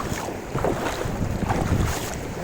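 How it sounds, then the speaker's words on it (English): Flowing river water near a hidden waterfall, a steady rushing wash heard close by with gusty wind buffeting over it. "The flow of river is nice."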